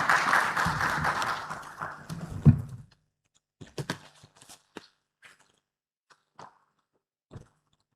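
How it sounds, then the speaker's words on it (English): A business forum audience gives a dense burst of applause for nearly three seconds, then it thins out into a few scattered, isolated claps and knocks in a quiet hall. "A round of applause for him."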